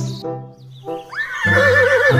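A horse neighs loudly and close, a long shrill whinny with wavering pitch following shorter breathy calls, heard alone without talk.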